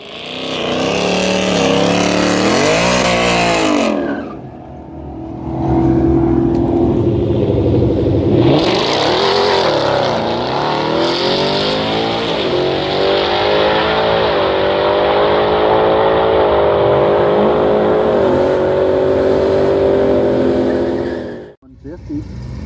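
A 2024 Whipple-supercharged Mustang GT V8 drag racing down the quarter mile, running in normal mode: loud engine roar rising through several gear shifts, a brief drop around the change, then a sustained high-revving pull that cuts off abruptly near the end.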